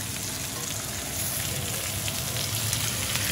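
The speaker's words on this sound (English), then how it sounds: "I think we are ready to turn our steak." A ribeye steak sizzles loudly in a hot pan as it is turned, a dense steady hiss that swells slightly partway through, close and continuous with no talking.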